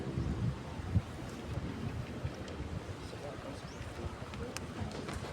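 Wind buffets an outdoor microphone at a Philippine Army 4th Infantry Division change-of-command and retirement ceremony, a steady low rumble with gusty swells running throughout.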